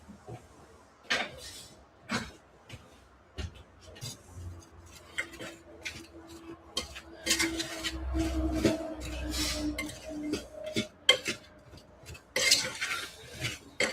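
A spoon stirs a mixture in a kitchen pot, scraping and clinking against the metal in irregular strokes, with occasional louder knocks and a faint low hum underneath.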